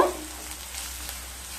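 Potatoes fry with turmeric and Kashmiri chili powder in a Goa-style potato fry, giving a short, even, close sizzle after a brief knock at the start.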